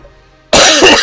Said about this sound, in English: I'm terribly sorry about blowing everyone's ears out with those coughing fits